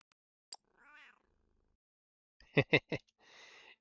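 A cat meows several times close by, three loud sharp meows in quick succession after an earlier softer call, then a quieter trailing one, with brief handling noises between.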